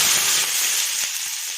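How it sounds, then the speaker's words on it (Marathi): Water sprinkled onto a hot dosa griddle hisses loudly and sharply up close, a short burst of sizzling steam that gradually settles. "थोडंसं पाणी शिंपून घेते"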